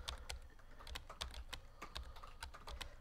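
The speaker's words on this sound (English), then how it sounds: "Why the fuck can I not type?" Rapid typing on a computer keyboard, a steady run of sharp, close keystroke clicks with uneven rhythm and no voices.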